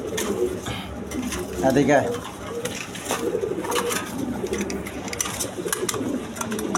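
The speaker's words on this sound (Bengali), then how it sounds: "এখানে দুইটা গররা কবুতর আছে, দুটোটাই নর মূলত" Two big male pigeons in a breeder's loft coo in low, throaty bursts, strongest around the middle, while someone talks over them and other bird sounds and background noise carry on.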